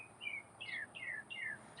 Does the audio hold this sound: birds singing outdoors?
yes